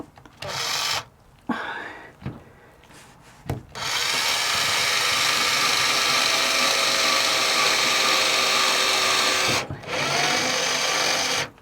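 A cordless power drill with a low battery whirs in long sustained runs while lining a shed, briefly starting and stopping before a steady extended burst, loud and close with no speech.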